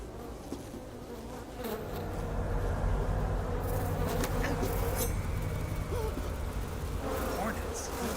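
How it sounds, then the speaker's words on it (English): Hornets buzzing in Metal Gear Solid 3: Snake Eater, a dense continuous drone that swells louder partway through, with faint game sounds underneath. "Hornets."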